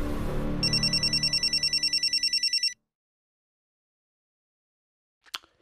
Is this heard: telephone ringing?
yes